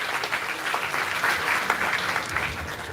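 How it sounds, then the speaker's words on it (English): Steady, dense applause from an audience at a university ceremony, a close and even wash of many hands clapping alone with no talk. "Please give a big round of applause."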